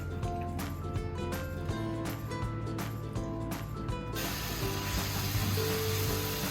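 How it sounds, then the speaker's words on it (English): Paneer tikka mixture hits an oiled pan and roasts, bursting into a steady broadband sizzle after a few seconds of softer clattering, close and moderately loud. "And then we just put the mixture in the pan and roast it for a few minutes."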